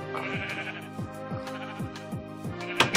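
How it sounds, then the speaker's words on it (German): Sheep in the video game Minecraft bleat over a steady, repeating game music loop, their short wavering cries coming fairly loud and close, with a brighter burst near the end. "Und jetzt probieren wir mal hier unsere Schafe wieder da reinzukriegen, wo die hingehören."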